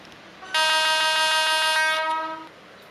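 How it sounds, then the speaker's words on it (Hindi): A single loud, sustained special train horn blast in a train simulator game, rich in harmonics, held steady for about a second and a half before trailing off, with no talking. "तो गाइस कुछ ऐसा ही स्पेशल वाला हॉर्न है।"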